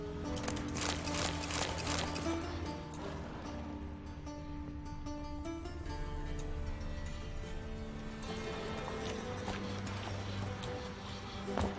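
Rapid hoof clip-clops from several horses in The Witcher 3: Wild Hunt patter on continuously, mixed with game-like background tones, moderately close and fairly even.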